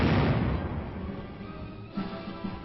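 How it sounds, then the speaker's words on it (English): Tank artillery bombardment in Korean War newsreel footage, heavy booming fire opening loud and rumbling away, with another blast near the end, muffled and narrow-band like an old film soundtrack. "In constant communication with the fire control center, the tanks continue their heavy bombardment."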